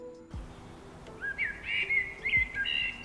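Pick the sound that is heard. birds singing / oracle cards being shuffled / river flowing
birds singing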